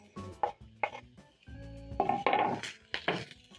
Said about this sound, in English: So I'm going to add in my capsicum, my zucchini, eggplant.